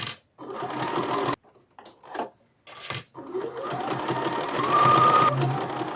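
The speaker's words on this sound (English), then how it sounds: "I'm just going to sew right across the top of the stocking" A sewing machine stitches straight across the top of a fabric Christmas stocking, running in steady bursts with short pauses. The whir is close and continuous in its last few seconds, and no one speaks.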